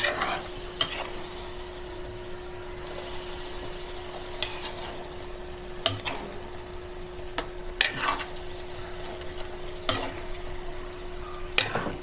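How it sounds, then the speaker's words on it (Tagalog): Pork binagoongan with shrimp paste sizzles softly in a pan while a spatula scrapes and knocks against the metal every second or two, producing sharp intermittent clacks over a low steady frying hiss. "haluin po natin siya uli muna"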